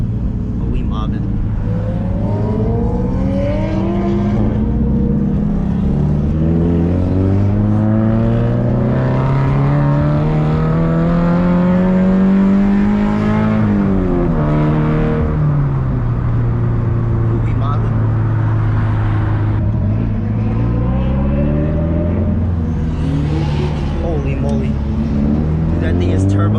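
A turbocharged supercar engine roars loud and close, its pitch climbing steadily through long revving pulls, dropping at each shift and rising again, over road rumble with no talk.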